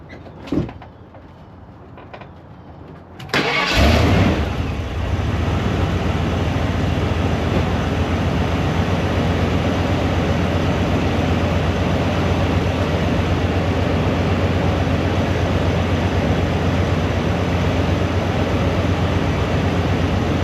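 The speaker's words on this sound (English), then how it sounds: "I'm going to start the truck up so you're going to see all this make noise" An old-body-style Ford Bronco truck, after an EGR replacement, cranks and fires up after a few quiet seconds, then runs with a loud, steady, close engine drone to the end.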